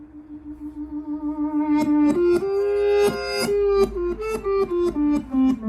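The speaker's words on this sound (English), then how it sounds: "we have one guitar pan to the right" Acoustic guitar picking a minor pentatonic lick, panned hard right, with single notes sliding and bending upward into sustained ringing tones, treated with echo and chorus-like effects; steady and prominent with no voices.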